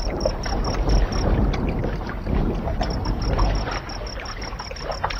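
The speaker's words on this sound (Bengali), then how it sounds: "এরপর আমি নৌকায় উঠে বসলাম।" In a horror cartoon, a boat rocks on water as a cold wind blows, giving a steady rushing wash with lapping and gusty noise throughout.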